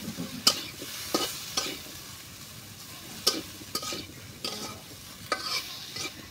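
Potato chips and flat beans fried together in a pan: a continuous sizzle punctuated by repeated sharp scraping strokes of stirring at irregular intervals, close and fairly loud.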